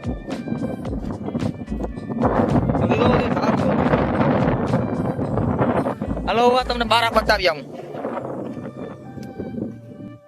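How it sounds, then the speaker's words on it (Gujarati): Strong gusts buffet the microphone in loud, rumbling bursts at a dam while someone talks over the blustery roar. "પવન નો અવાજ આવી છે ભાઈ બહુ બધો કેમ કે પવન બહુ છે"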